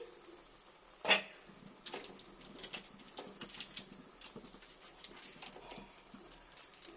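A pan lid comes off cooking Maggi noodles with egg in one sharp metallic clink, followed by a soft, steady sizzle and patter from the pan.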